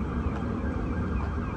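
A police car siren wails steadily through a street near a park in Flushing, New York, with continuous traffic and wind noise around it.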